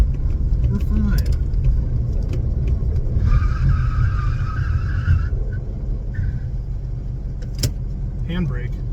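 A Volkswagen car skids under its handbrake during rough driving, a sustained tonal squeal lasting about two seconds over steady engine rumble, with people talking close by.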